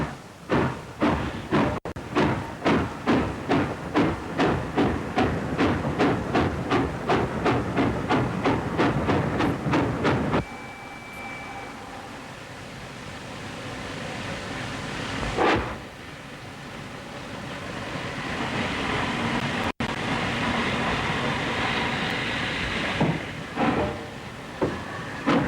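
A South African Railways Blue Train runs on rails, with a loud, steady rhythmic clickety-clack of wheels over rail joints that fades into a rolling rumble, with occasional louder clunks and the beat returning near the end.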